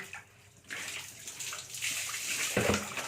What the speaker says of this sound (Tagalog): Sarap maligo